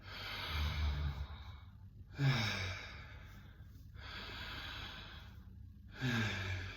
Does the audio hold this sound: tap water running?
no